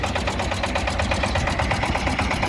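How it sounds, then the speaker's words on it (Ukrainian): Shifeng 244 tractor with cab, engine running at a steady idle, even rapid mechanical pulsing close by with no other sounds. "такий гарний тракторець їде до свого власника"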